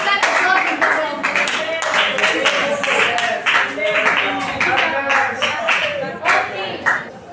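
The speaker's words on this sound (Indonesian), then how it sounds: "Berikan aplaus untuk kelompok." A class claps for a student group, with dense, fairly close hand clapping that runs throughout alongside children's voices and chatter in the room.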